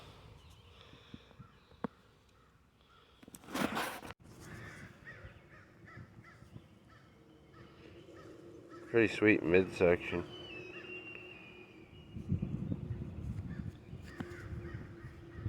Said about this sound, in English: Sounds like the crows and the eagles are over there fighting or something.